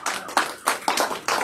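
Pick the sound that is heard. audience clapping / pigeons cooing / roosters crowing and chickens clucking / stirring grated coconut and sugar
audience clapping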